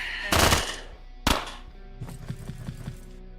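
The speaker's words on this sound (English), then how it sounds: "Oh, you can just shoot clear across the ship." Gunfire shoots clear across a ship in the Quasimorph video game: two loud, sharp blasts, then a quicker run of lighter shots and impacts, all close and without talk.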